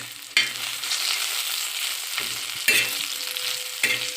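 Cumin seeds and salt stirred through hot oil in a pan on low heat, a steady loud sizzle and frying hiss broken by a few sharp scrapes of the spoon.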